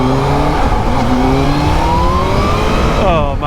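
A heavyweight motorcycle engine revs in second gear under light throttle, a loud steady drone that climbs briefly before cutting off near the end, close to the rider.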